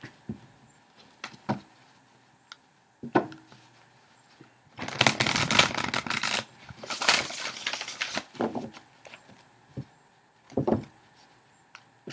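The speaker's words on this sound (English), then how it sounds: "we're going to go ahead and shuffle" Tarot cards are shuffled in two brisk riffling bursts, with soft taps and handling noises before and after.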